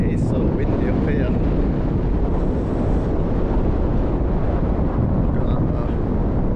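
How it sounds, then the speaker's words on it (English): Strong wind roars across Bamford Edge, a high gritstone edge in the Peak District above Ladybower Reservoir, as a loud, steady, buffeting rumble that continues for the whole stretch with no break. "It is so windy up here."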